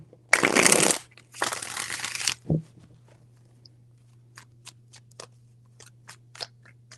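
Tarot cards are shuffled in two brisk riffling bursts up close, followed by a soft tap and a few faint ticks against a low steady hum.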